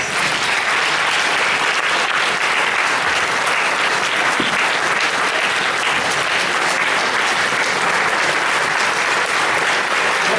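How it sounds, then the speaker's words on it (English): A debate audience for county executive candidates rises in a dense, sustained round of applause that fills the room from start to finish. "Why don't we finally stand up and give them a great round of applause."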